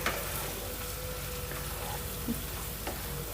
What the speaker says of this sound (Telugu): ఇంకొక టూ మినిట్స్ అండి ఇంకొంచెం ఫ్రై అవ్వాలి